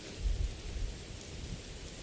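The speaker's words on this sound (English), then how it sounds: "It's raining." Rain falls in the video game Morrowind as a steady, soft wash of downpour with a low rumbling undertone that swells briefly at the start, with no voices.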